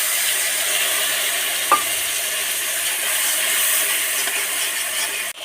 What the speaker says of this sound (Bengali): এবার মশলাটাকে কষে নেবো ভালো করে